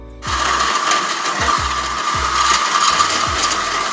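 A power tool cuts through a car suspension bolt on an Infiniti G37 camber adjustment, a loud continuous high-pitched grinding whine with a repeating low thump underneath, close and alone.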